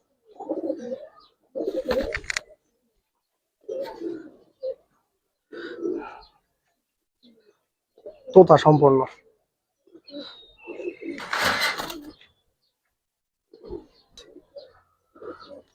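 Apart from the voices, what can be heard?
Giribaz pigeons cooing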